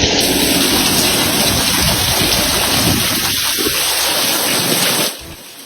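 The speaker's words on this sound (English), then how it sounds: "Listen to that rain." Heavy monsoon rain pours down in a steady, loud broadband wash that stays constant for several seconds, with faint muffled voices underneath, then drops off sharply near the end.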